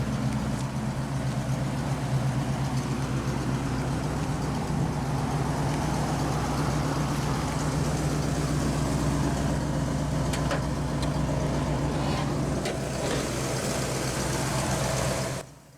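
A 1956 Pontiac Chieftain's 316 cubic inch Stratostreak V8, naturally aspirated, idles with a steady low rumble throughout, loud and close, cutting off abruptly at the end.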